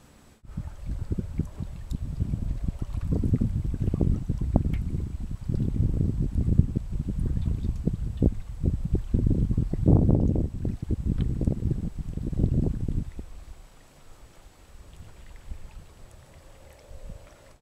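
A boat on a lake is heard from a canoe as a low, rumbling, gusty drone swelling and fading over several seconds, fairly faint and mixed with wind buffeting against the microphone.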